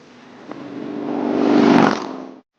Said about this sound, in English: this motor really loves to rev